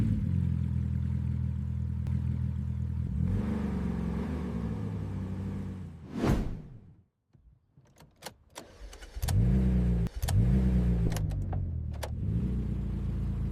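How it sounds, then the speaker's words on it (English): A high-performance sports car engine runs at a loud, steady idle, then surges in a rising rev before cutting out, followed by a run of sharp revs and bursts of acceleration. "smash the gas pedal down"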